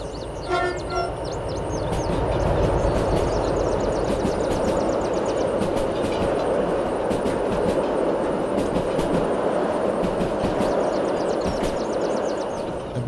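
A locomotive running in the train simulator game Derail Valley, with a steady rumbling roll, rhythmic clicking wheel beats over rail joints and a brief horn-like tone near the start.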